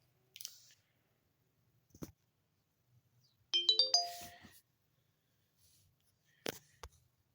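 An LG C1300 flip phone's short electronic startup tone, a bright descending run of chiming notes, with a few soft clicks before and after in a quiet room.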